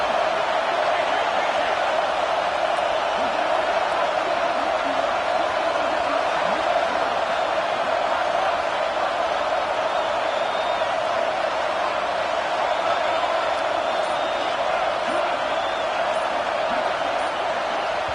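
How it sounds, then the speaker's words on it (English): A large stadium crowd at a Florida Gators football game roars steadily and loudly, a dense, unbroken wall of noise with no pauses. "And with this place rocking, the crowd forces a false start."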